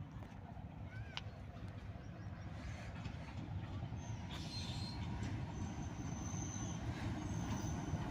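HBU-20 locomotive 8046 hauls the PDK Shuttle between PD Khan and Malakwal, a steady rumble of wheels on rail with faint squeals and clicks, heard from onboard and growing slightly louder.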